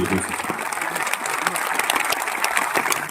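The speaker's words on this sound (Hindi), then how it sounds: "तो अब आपकी तालियों की आवाज उसकी गूंज आनी चाहिए।" An audience at a Panchkula swearing-in ceremony for newly elected Haryana municipal council chairpersons and councillors applauds, a steady, dense wash of clapping filling the hall from start to finish.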